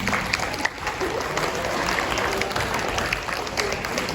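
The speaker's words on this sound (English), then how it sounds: "one more time, a round of applause for those individuals" An audience at a 7th grade awards ceremony claps for award recipients, a steady dense patter of many hands sustained throughout, moderately loud with a little crowd murmur.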